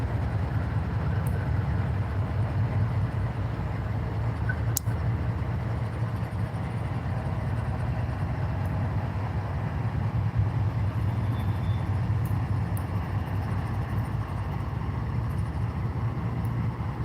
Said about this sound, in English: That train's moving very, very slowly right now.